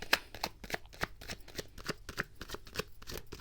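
Tarot cards being shuffled and drawn close up, a quick run of crisp papery slaps and riffles in an uneven rhythm, fairly quiet, with no voice.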